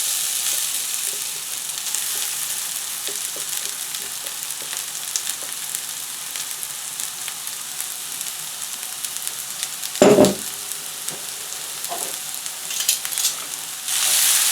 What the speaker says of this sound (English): you'll get a nice strong sizzling